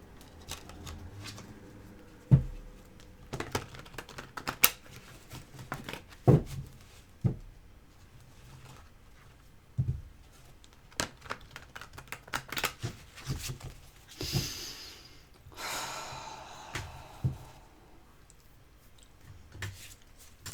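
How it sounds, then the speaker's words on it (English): Tarot cards are shuffled close up in quick riffling bursts, with soft taps and clicks between, quiet and without any talking. "Give it a quick shuffle. Another quick shuffle."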